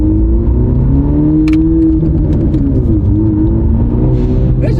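A small, zippy car with low tire pressure drives off close by, its engine rumbling and rising steadily with faint hissing and whirring on top.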